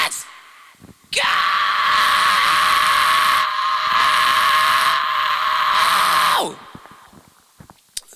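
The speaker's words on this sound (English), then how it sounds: "but I'll just keep doing some random screams, right?" A man screams harshly into a dynamic microphone, one loud sustained scream lasting about five seconds, close and forceful, with brief quieter noises before and after.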